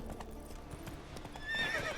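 Roach, Geralt's horse in The Witcher 3, clip-clopping along at a steady rhythmic gait, hoofbeats fairly close and moderately loud, followed by a short neigh near the end.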